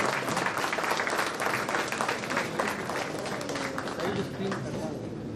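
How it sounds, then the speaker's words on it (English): Audience applause at a women's talent council celebration of diversity, equity and inclusion: dense, steady clapping from a room full of people that continues evenly throughout, with a faint voice underneath. "I think all of us deserve a big round of applause."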